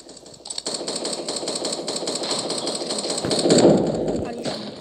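Rapid bursts of video game gunfire crackle in a dense, continuous stream that swells toward the end, with a player talking over it.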